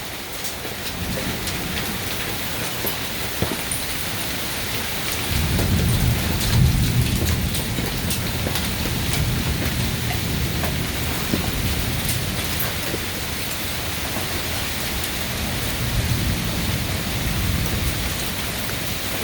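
Steady heavy rain pours throughout a severe thunderstorm, with low thunder rumbling in partway through and again near the end, close and continuous with no talk.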